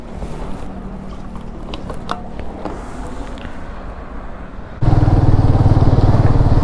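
A motorcycle engine idles with a steady rumble, then grows abruptly louder and throatier as it revs up, with wind noise throughout.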